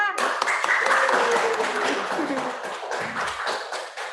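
A school audience of parents and grade 7 students claps after class project presentations, a busy burst of applause mixed with voices and chatter that gradually thins out.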